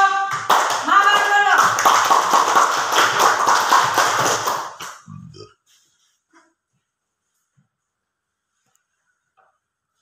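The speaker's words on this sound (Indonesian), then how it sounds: "Tepuk tangan untuk kelompok" Classroom of students clapping together for a student group, a close, lively patter of hands mixed with children's chatter and a sung or chanted phrase, stopping suddenly halfway through and leaving near silence with a few faint taps.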